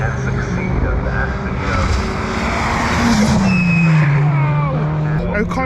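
Time attack race cars at Anglesey qualifying, including a Vauxhall Astra and Mitsubishi Evos, roar past with rising and falling engine notes and a sweeping pitch change, under continuous excited commentary.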